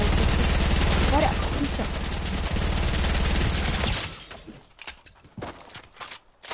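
Rapid bursts of gunfire from a Fortnite match, dense and loud for about four seconds, then sparse scattered shots and quieter game sounds.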